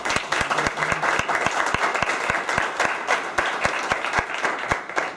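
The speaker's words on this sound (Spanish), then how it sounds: "Entonces, un gran aplauso para el profesor." Steady, sustained applause from an audience honouring a professor after a lecture, dense overlapping clapping with no speech, continuous and fairly even in loudness throughout.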